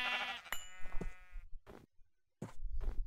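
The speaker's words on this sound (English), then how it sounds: "We've got a black sheep here" A black sheep bleats in a Minecraft modpack, one long wavering bleat followed by short animal calls and clicks, with quiet gaps between them.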